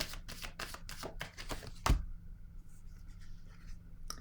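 A single soft tap of a tarot card set down on a table stands out midway through a quiet stretch, following a brief run of light shuffling-like rustles.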